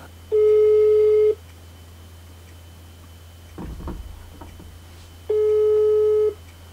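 A telephone tone sounds twice after dialing a customer service number, each a steady beep about one second long separated by a pause, with a brief soft rustle in between.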